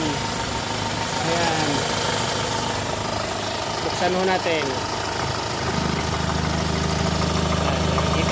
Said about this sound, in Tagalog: nakikita nyo ho, napaka-tining ho na makina, sobrang tining.